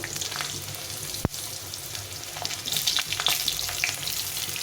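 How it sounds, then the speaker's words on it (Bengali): Potatoes fry in hot oil tempered with cumin and dried chilli, giving a close, steady sizzle with a sharp clack near the start and a few louder spits. "এখন আমি প্রথমে আলুটা ভেজে নেব আলু ভেজে দেবো"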